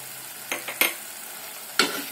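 Masala spices fry in oil in a kadai while being stirred, a soft steady sizzle broken by a few scraping strokes of the spoon against the pan.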